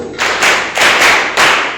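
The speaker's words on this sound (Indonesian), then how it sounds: "Tepuk 1." Classroom claps on a teacher's count, three sharp group claps in quick succession over under two seconds, loud and close.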